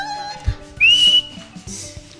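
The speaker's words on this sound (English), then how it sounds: "the captain would be blowing the whistle to signal the change for each Movement, maneuver" A whistle blown to signal a change of maneuver in a cultural theatre form. One clear, sustained high-pitched blast sounds close by against a quiet background.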